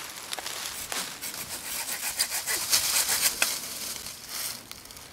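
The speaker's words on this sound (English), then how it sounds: "So I'm going to cut down this branch here." A small saw cutting through a tree branch outdoors, producing a series of rough rasping strokes in an uneven rhythm, close up and moderately loud, with no voices.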